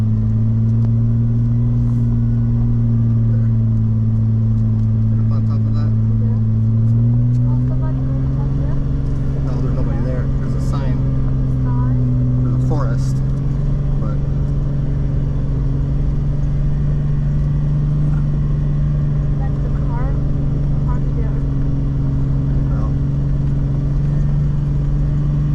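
Jeep LJ overland rig climbing a steep mountain road while towing a trailer, its engine a loud, steady low drone that shifts pitch briefly, with a voice talking over it.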